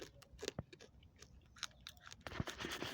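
Crunchy snack pieces being chewed close up, giving a run of irregular loud crunches and bites across the clip with no talking.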